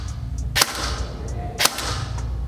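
An ICS Peleador airsoft gun fires through a chronograph: two sharp, loud single shots about a second apart, each a crisp snap over a steady low background hum.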